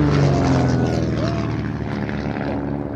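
A propeller aircraft flying an aerobatic display at an air show, breaking into a stall turn, drones loud and steady throughout with a strong engine roar that shifts slightly in pitch.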